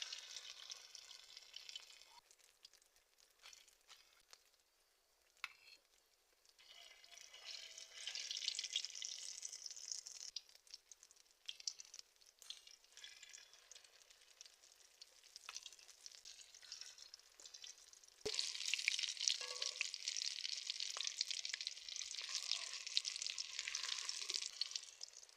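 Egg-dipped stuffed flatbread fries in hot oil with a steady, close sizzle and crackle that swells louder partway through. No one speaks.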